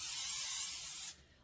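Olive oil cooking spray hissing steadily into baking pans for about a second, a loud close continuous spray that cuts off abruptly, leaving quiet room tone.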